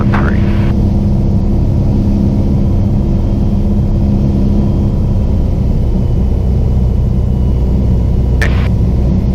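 A light training airplane in flight, a Piper Archer, its engine giving a continuous loud droning rumble from inside the cockpit, with a few brief clicks and faint radio noise.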